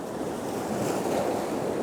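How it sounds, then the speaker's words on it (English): Ocean waves spill over boulders along a rocky shore, a steady near wash of surf with a windy hiss and no voices. "the waves just spill over these boulders in the foreground here"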